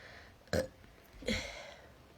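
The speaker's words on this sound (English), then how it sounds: "That smell of that burp was just, and the taste is really gross." Two separate burps from a person feeling unwell after eating out, the first short and the second longer, both fairly close and moderately loud over a quiet background, with no speech.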